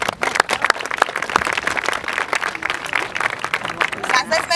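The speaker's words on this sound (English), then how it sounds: "Let's give them another round of applause." An audience at a campus Relay For Life survivor event applauds, with dense clapping that rises and falls over several seconds beneath a speaking voice.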